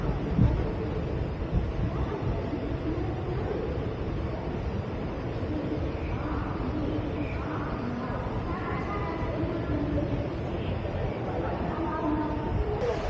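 A passenger train rolls on toward Coimbatore Junction near Podanur, giving a steady, loud rumble with wind buffeting throughout and faint voices underneath.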